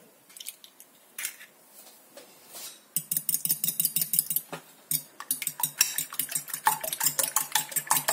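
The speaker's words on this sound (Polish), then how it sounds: "w osobnym naczyniu rozkłucam 2 jajka" Quick, rhythmic clinking of a utensil beating two eggs in a bowl, starting sparse then settling into a fast, steady beat, close and clear.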